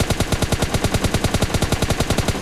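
Rapid automatic gunfire from PUBG Mobile Lite, a steady fast burst of evenly spaced, punchy shots heard close and loud with no voices.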